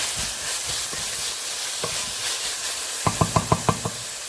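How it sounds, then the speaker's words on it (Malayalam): Chopped onions sauté with salt in a pan for minced beef keema, a soft steady sizzle beneath a quick run of sharp spoon-on-pan knocks as they are stirred near the end. "ഇനി നമുക്ക് ഈ സബോളയൊന്ന് വഴറ്റിയെടുക്കാം"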